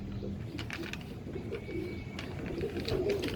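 Tiger, Dub and Rampuri pigeons coo steadily and softly, close by, over a constant murmur of birds in a loft with faint background noise.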